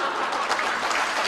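An audience at a literary lecture event breaks into applause, a dense, steady wash of many hands clapping together, close and sustained, with no talk over it.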